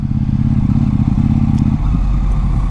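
A KTM 790 Duke motorcycle rolls along in second gear, its engine droning steadily and loudly with a deep, even rumble and no voices over it.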